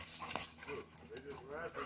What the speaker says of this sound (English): actually wrestling with another dog